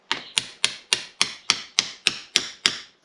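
Ten steady, evenly spaced metallic taps as a deep socket is hammered to drive a steering shaft seal into a Ford Econoline E150 steering box, each sharp and close with a short ring.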